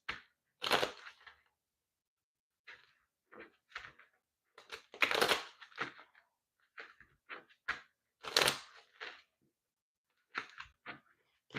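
Tarot cards are shuffled in loose, irregular bursts of crisp riffling and slapping, several short flurries spaced by quiet gaps, close and fairly faint.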